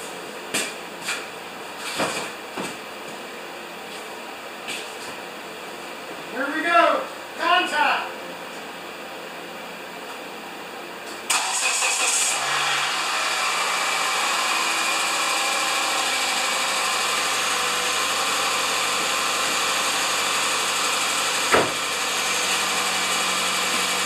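Vehicle engine starting after sitting almost three and a half months, catching partway through and then running at a steady idle. A few clanks and knocks come before it, and people speak nearby.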